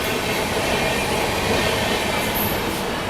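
The Delhi Howrah Rajdhani Express pulls out, a loud, steady rumble of rolling wheels and rail noise filling the whole stretch with no voices.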